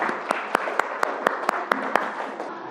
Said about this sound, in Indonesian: Tepuk tangan untuk kelompok Asami.